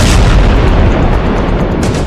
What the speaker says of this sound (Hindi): जब ये बम रात में फटता है तो ऐसा धमाका होता है